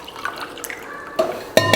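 Water poured from a tumbler onto rice in a pot, a couple of short splashing bursts near the end after quiet clinking, close and fairly soft.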